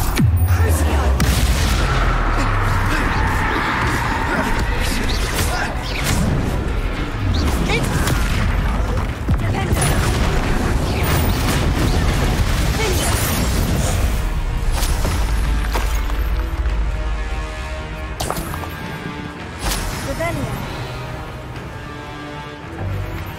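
Confringo blasting spells explode in Hogwarts Legacy, a dense run of heavy booms and crashing impacts with debris and shattering, loud and near, with game music and occasional voices mixed in.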